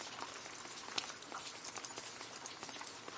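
Summer rain patters steadily onto water where ducks splash about, a dense, even hiss of drops with a few brighter splashes, heard close and alone.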